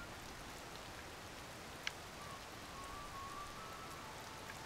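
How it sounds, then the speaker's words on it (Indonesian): Steady rainfall hisses as a continuous, even wash of drops in The Legend of Zelda: Tears of the Kingdom, fairly quiet, with a brief sharp tick partway through and no talking. "Udah dong, jangan hujan dong."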